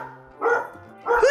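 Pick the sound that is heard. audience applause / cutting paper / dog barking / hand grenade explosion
dog barking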